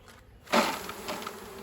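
Honey bees buzz at an open hive with few nurse bees, a close, steady hum that swells briefly in the middle and then settles.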